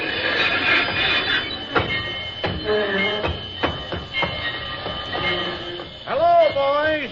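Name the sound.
train coming to a stop, radio drama sound effect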